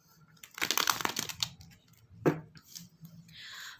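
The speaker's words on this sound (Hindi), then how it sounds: "पहले कार्ड्स को अच्छे तरीके से हम शफल कर लेंगे" A tarot card deck being shuffled up close: a quick crisp burst of riffling cards, a sharp single snap, then a softer brushing slide as the cards settle.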